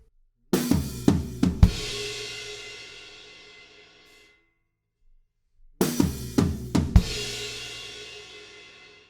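A short drum fill of several quick hits on the toms ending in a ringing crash, played twice with a pause of silence between, close and clear.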